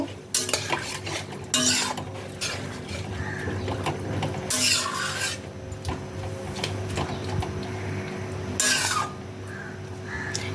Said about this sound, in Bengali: আর চিনি এবার সব কিছুকে একসাথে ভালো করে মিশিয়ে নেব